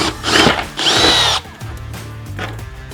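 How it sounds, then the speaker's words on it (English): A 3/4 inch hole saw on a power drill bites into a container lid in two loud, close bursts of whining grinding, then the drill stops and handling noises follow. "I've got a 3/4 inch hole saw."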